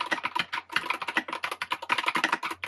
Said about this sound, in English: It's not my best sounding keyboard probably, it's kind of hollow sounding